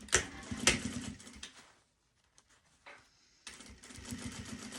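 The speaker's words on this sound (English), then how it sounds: "I'm going to sew it on nice and firm." A sewing machine stitching a small fabric bag runs in quiet bursts that pause for a moment before it starts up again, close and soft.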